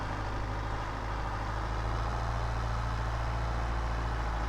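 Loud, continuous low diesel rumble of a tractor engine climbing a hill in Farming Simulator, a steady droning hum under load that holds even from start to finish, with no voices.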